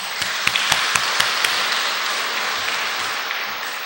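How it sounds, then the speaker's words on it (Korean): A church congregation applauding: a few sharp early claps swell into a dense, steady wash of applause that carries on evenly to the end. "하나님께 영광의 박수."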